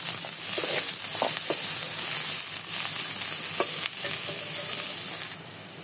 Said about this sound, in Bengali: আবার তেল দিয়ে এর মধ্যে দিয়ে দিতে হবে জিরা আর পেঁয়াজ দিয়ে এবার খুব ভালো মতো একসাথে ভেজে নিতে হবে।